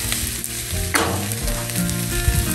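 The whites of green onions, red pepper flakes and garlic sizzle and fry loudly in a hot pan with a steady crackle, and a short stir is heard partway through. No one speaks.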